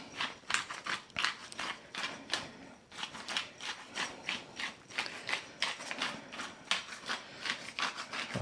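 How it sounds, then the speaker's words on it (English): A hand pepper mill grinds fresh black pepper onto fajita meat in quick repeated ratcheting twists, a soft, close, rhythmic crunching that continues steadily without talk. "let's go ahead and put our black pepper on"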